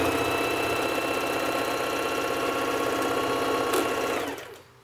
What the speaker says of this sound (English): That is a nice sewing machine.